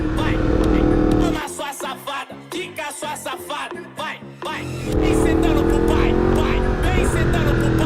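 A Yamaha MT-10 with its CP4 engine roars while riding, loud and close, dropping to a choppy, popping lower note mid-way before pulling hard again.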